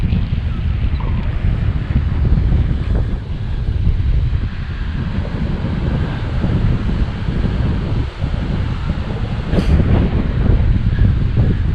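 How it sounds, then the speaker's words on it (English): Heavy ocean surf rolls onto a Dauphin Island beach under strong, gusting wind that buffets the microphone, a loud, continuous roar with no voices. "Beautiful waves, lots of wind, which gives you nice waves here."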